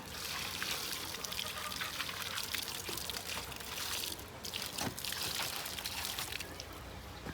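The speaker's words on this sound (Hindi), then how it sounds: "बस अब इंशाल्लाह लगाते हैं इनको पानी ज़्यादा सारा पहले सबसे।" Water poured steadily onto stacked bricks before construction work, a continuous splashing and trickling hiss that runs close and unbroken throughout, with outdoor background noise.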